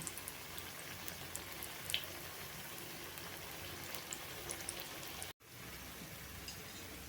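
Aloo tikki frying in oil in a pan, a steady soft sizzle with fine crackles running throughout, broken by a brief cut near the end before the sizzling resumes.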